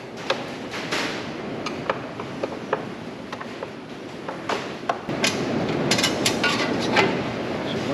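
Screws being backed out of the light plate inside an old motorcycle tour pack with a T15 driver, giving a run of close, small metallic clicks and ticks over a low background.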